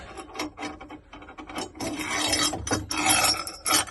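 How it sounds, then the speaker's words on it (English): A propeller shaft slid by hand through the stern tube of a Pied Piper 28 sailboat against its cutlass bearing, a close, uneven rasping scrape in short bursts and longer rubs. "it will slide inside of that stern tube, but then it hits the cutlass bearing"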